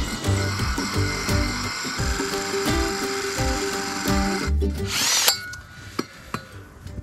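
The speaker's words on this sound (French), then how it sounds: "pour percer, moi, j'ai sorti le perfo avec un trépan de carbure." A rotary hammer drill with a carbide hole saw bores loudly and continuously with a rapid pounding chatter, then cuts out and is followed by a few sharp knocks and clatters.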